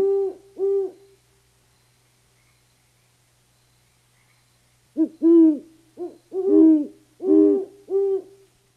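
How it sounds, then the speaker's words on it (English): Two great horned owls trade deep, resonant hoots: a pair of calls at the start, a long quiet gap, then a quick back-and-forth run of several hoots near the end. The calls are fairly close and clear, with no voices present. "it was two owls. They were hooting at each other."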